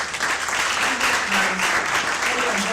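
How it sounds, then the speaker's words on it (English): Conference audience applause for partners at an IVC event, a steady wash of moderate clapping lasting a few seconds with a faint voice underneath. "I'd like us to give them a round of applause."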